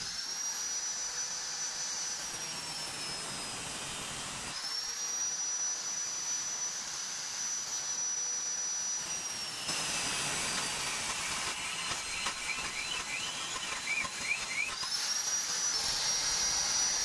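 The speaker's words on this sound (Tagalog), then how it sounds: "Gamit lang tayo ng grinder mga brothers, cutting this." An angle grinder cutting metal on a Barako 175 motorcycle part gives a steady high whine and hiss that runs for the whole stretch, shifting in pitch as it bites and eases off, with no talk.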